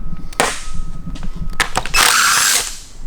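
A power tool whirs in short bursts with a few sharp clanks as coil packs are unbolted from a BMW M52 inline-six engine, the longest burst loud near the end.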